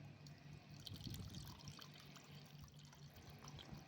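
Water runs steadily from a small toy tap in a Barbie doll play bathroom, a continuous close trickle and pour with a slight swell near the middle and no voices over it.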